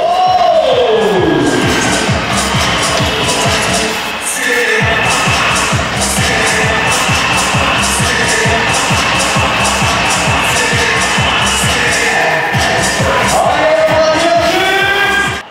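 Packed stands at an ice hockey show for women's teams cheer and applaud loudly, and a pulsing music beat runs under the crowd noise throughout.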